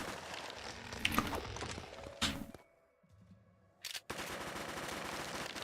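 Rapid Uzi bursts from Craftopia, loud and close, with fast automatic rattles, a sharp gap of near silence in the middle, then steady firing resuming.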